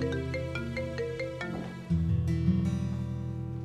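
A mobile phone ringtone plays a repeating electronic melody of bright tones, joined midway by a denser, louder musical passage, with no talking over it.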